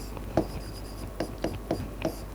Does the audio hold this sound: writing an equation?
yes